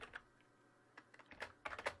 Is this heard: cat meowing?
no